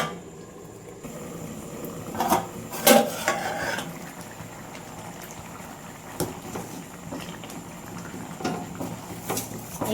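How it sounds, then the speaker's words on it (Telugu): Masala vada tamarind stew (pulusu) bubbles softly in a pot, with steady low simmering broken by a few sharp clinks of a spoon or utensil against the vessel. "కొద్దిగా ఉడకాలి పులుసు మరీ ఎక్కువగా ఉడికిచ్చేసుకోకూడదు"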